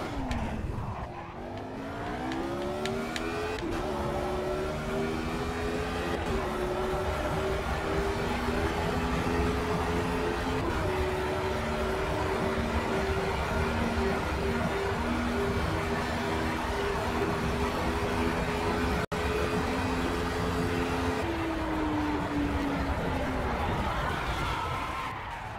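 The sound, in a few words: race car engines from the video game Project CARS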